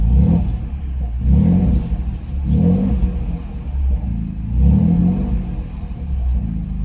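A 2024 Ford Ranger fitted with a Flowmaster 40 Series exhaust revs in repeated swells, a deep low rumble rising and falling about every one to two seconds, loud and close with no talking.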